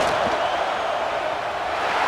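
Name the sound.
stadium crowd noise during field goal attempt, from a college football video game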